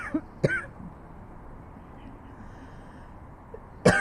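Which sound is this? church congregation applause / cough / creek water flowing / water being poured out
cough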